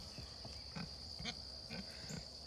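Pigs on a homestead grunting and oinking softly in short repeated bursts, several close snorts spaced about half a second apart over a quiet background.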